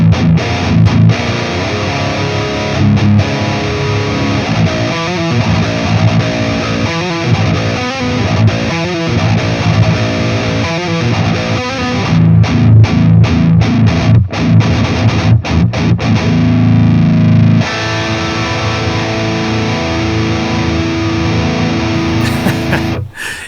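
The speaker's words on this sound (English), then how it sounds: "let's check out what this amplifier sounds like straight out of the box" Distorted electric guitar played through the Solemn Tones Runeforge Fenrir amp simulator, thick sustained chords mixed with choppy rhythmic strumming and short muted bursts.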